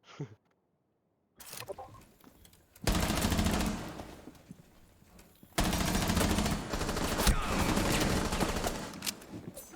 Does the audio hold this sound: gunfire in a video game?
yes